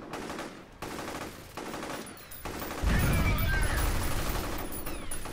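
Automated turrets firing in a shooter video game, rapid bursts of gunfire that grow louder and denser, with heavy low booms in the second half.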